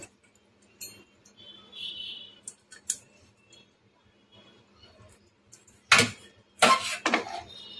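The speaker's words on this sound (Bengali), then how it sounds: "ভালো করে নেড়ে চেড়ে নিচ্ছি" A utensil scrapes and clinks against a pan while chicken tomato pasta is stirred, with sparse, close clicks at first, then two louder bursts of metallic scraping near the end, and no talk.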